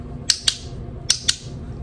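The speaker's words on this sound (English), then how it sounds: "Then I got her little clicker" A small dog training clicker pressed twice, each press giving a sharp double click, close and crisp against a quiet room.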